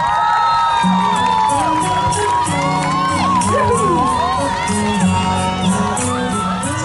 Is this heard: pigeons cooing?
no